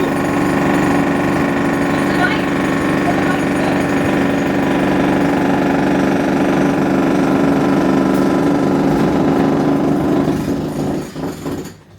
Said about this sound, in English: this is the noise of jackhammering